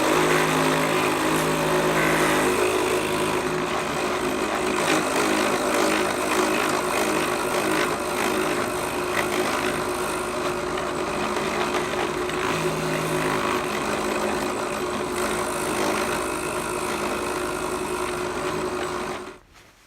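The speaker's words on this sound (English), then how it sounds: "there's our hole drilled out" A fountain pen body being drilled through, a steady, loud whirring drone running unbroken for about twenty seconds before it cuts off abruptly.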